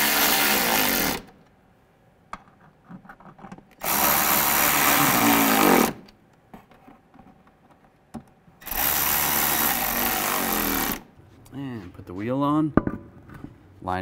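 Power tool tightening bolts on a 1998-2010 Volkswagen Beetle: three loud, close bursts of a few seconds each, with someone talking in the pauses between them.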